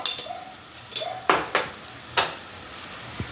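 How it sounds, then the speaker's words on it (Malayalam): Masala for a fish curry sautés in a pan with a quiet, steady sizzle. A spoon knocks and scrapes against the pan several times in irregular strokes. "അതിൻ്റെ ഒരു പച്ചമണം പോകുന്നവരെ നമ്മൾ വഴറ്റിക്കൊണ്ടിരിക്കണം"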